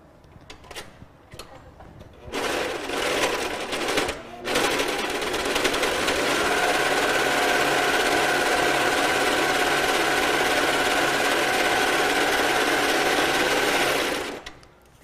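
A sewing machine stitching fabric: after a few short bursts and brief stops, it runs in a loud, continuous, fast mechanical whir for about ten seconds, then halts.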